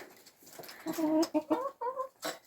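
Poultry cluck and murmur close by in short, uneven bursts over a couple of seconds, fairly soft and alone with no talk.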